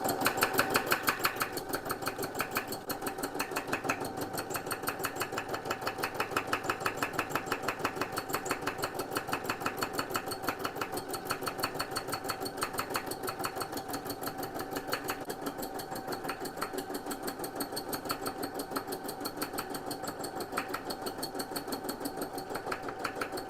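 A sewing machine runs steadily on soluble stabilizer without fabric, its fast, even mechanical needle rhythm clattering close and continuous throughout.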